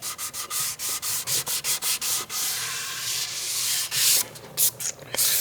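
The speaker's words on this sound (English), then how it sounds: "I will continue sanding" Squier Classic Vibe 50s Telecaster body being sanded by hand, rapid rhythmic back-and-forth rasping strokes, close and loud, with no talking.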